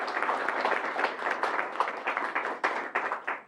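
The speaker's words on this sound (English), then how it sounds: "So a round of applause," An auditorium audience at a high school quiz competition breaks into steady applause, many hands clapping together at moderate distance, tapering off near the end.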